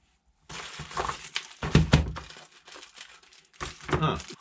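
Paper wrapping crinkles and rustles as a package of new tools is opened, in irregular close bursts of crackling with a louder rustle near the middle and brief speech underneath.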